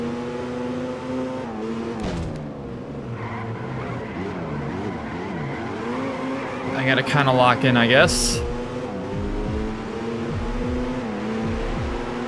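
Racing car engines drone and rise in pitch during an Alfa Romeo Racing Italiano race on PS2, a continuous layered whine with gear shifts and a rival car surging past, while someone talks over it.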